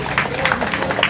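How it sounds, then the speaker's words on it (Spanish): Applause from the audience at a municipal food education center ceremony in Majes, El Pedregal, Arequipa, Peru: a steady wash of clapping from a crowd, moderately loud and continuous through the brief moment. "un fuerte aplauso para ella también."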